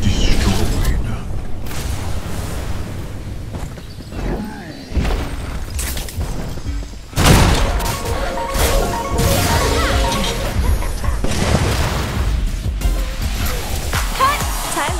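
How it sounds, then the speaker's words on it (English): Towers being destroyed in the video game Predecessor, a dense run of crashes, booms and shattering impacts with whooshes, loud and nearly continuous, with a big burst midway and voiced game announcements over the action. "Allied towers destroyed."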